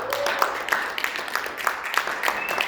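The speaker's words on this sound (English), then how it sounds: "we should all give her a round of applause" A meeting audience gives a brief round of applause for a woman who pushed for an official International Women's Day: steady, moderately loud clapping from several people, with a voice briefly audible underneath.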